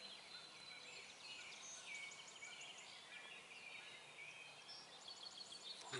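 Wild turkeys during spring turkey season in Wisconsin or Michigan call faintly from a distance, with bursts of rapid gobbling and chirps over a quiet, steady outdoor hush.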